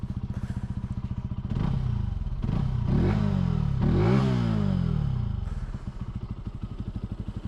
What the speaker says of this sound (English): give a few revs